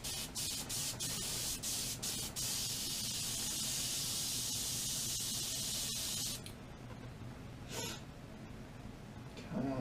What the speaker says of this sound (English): You grab some airbrush cleaner, because if you can get any liquid through,